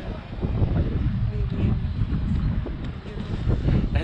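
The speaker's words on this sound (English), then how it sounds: "It's getting windy and chilly here," Steady wind buffeting the microphone atop the great pyramid at Cholula, Puebla, a loud low rumble that continues throughout with no clear talk over it.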